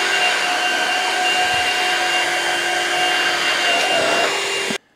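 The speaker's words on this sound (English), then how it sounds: "The suction is automatically going to stay on. And now I can mop the rest of my house." A Shark wet-dry vacuum mop runs with its suction on while cleaning a floor, a steady close whine with high tonal hums that holds nearly five seconds, then cuts off abruptly at the end.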